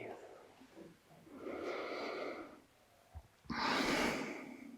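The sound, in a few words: breathing during a breathing exercise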